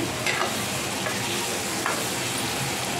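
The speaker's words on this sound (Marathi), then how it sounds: "थोडेसे तेलावरती असे फ्राय करायचे" Masala-stuffed eggplant fries in a little oil in a pan, giving a steady, close hiss and sizzle with faint stirring scrapes throughout.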